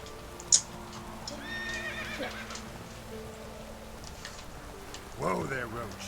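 Roach, a horse in The Witcher 3 game, gives a short whinny near the end, after a quiet stretch with rain, a few hoof clops and someone speaking.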